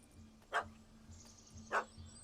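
A small dog in The Witcher 3 gives two sharp, yappy barks about a second apart, moderately close over a low steady game ambience hum.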